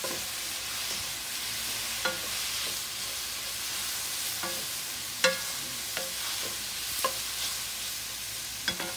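Food stir-fries in a hot pan with a steady bright sizzle and hiss, with spatula scrapes and clicks against the pan at irregular intervals and no talking.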